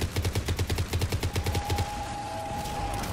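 Rapid bursts of automatic gunfire from a weapon in Mass Effect 3, a fast even rhythm of loud shots for about two seconds before a sustained ringing tone takes over.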